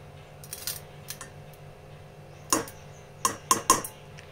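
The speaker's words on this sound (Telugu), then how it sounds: "ఇప్పుడు కల్లుప్పు వేసుకుందాం" Coarse rock salt spooned into a dish, giving a few light clinking metal-on-dish taps, close and fairly quiet, with a few sharp clicks near the end and no talk.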